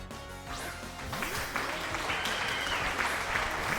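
Applause sound effect in the video game Pokémon Scarlet, a bright crowd-clapping wash mixed with swooping game tones and sweeps, moderately loud and continuous.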